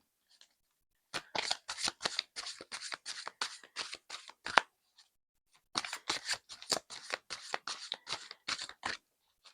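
Tarot cards riffled by hand in two long runs of rapid, crisp flicking, close and clear with a short pause between them and no voice.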